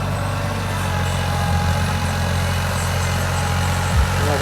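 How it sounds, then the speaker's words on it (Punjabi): A heavy tractor engine runs at a steady idle nearby, a constant low rumble with no talking. "ਸਾਹਮਣੇ ਟਰੈਕਟਰ ਚੱਲਦਾ"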